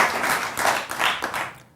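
Studio audience applauding during a televised Hindi political debate, a dense burst of clapping swelling in several waves and fading out at the end, with no voices over it.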